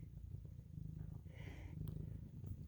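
A tiny kitten purrs softly and steadily at close range, a low continuous rumble in a quiet room, faint but unbroken.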